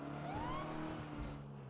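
Car engine droning steadily in a GTA roleplay game on the ProdigyRP server, a boaty-handling vehicle with a rising whine over low engine hum, continuous and close for under two seconds.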